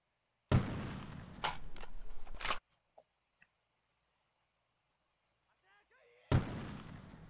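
Gunfire in the Delta Force video game: two loud bursts of shots, the first lasting about two seconds and the second starting near the end, with quiet game ambience and faint clicks in between.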